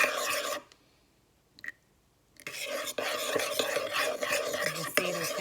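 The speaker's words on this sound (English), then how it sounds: "Just keep stirring." Eggs whisked by hand in a bowl while warm milk and cream trickle in for homemade ice cream: close, steady rasping strokes with a short quiet pause near the start.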